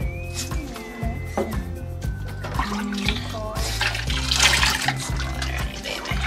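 Running water pours and splashes in a bath while a Boston Terrier puppy's feet are washed, a continuous close gush over background music.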